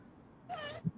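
A cat meows once, a short tonal call at moderate level, followed by a brief low thump, with quiet room background and no talking.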